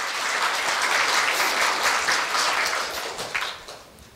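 Applause from an audience at a Korea University staff retirement ceremony, a dense, loud wash of many hands clapping that holds steady and then fades toward the end.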